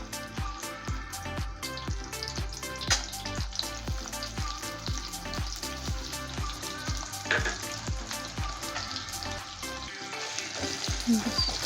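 Chopped onions frying in oil in a pan, slowly browned for birista in an egg korma. There is a dense, steady sizzle with frequent stirring scrapes, close and continuous throughout.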